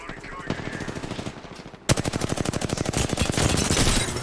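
Rapid automatic gunfire from an Apex Legends-style squad shooter, a softer burst early then a loud, sustained rattle of shots from about two seconds on, close and dense with faint background game noise.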